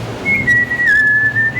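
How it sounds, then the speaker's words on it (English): A person whistles a single sustained note, clear and close, wavering slightly in pitch as it holds for over a second. "like the sound of his whistling, there and then gone"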